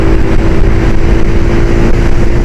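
A 2010 Yamaha YBR 125 motorcycle engine gaining pace on a ride in Leyton, a loud, steady, close drone with a droning tone and wind rush throughout, no voices.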